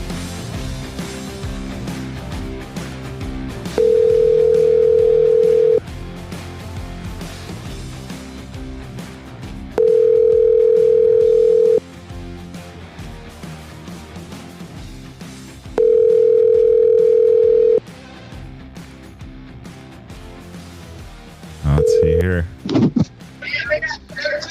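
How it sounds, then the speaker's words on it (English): Three steady telephone dial tones sound in turn, each held a couple of seconds, with people talking in between. Brief dialing beeps follow near the end. "let's hit the phone call thing"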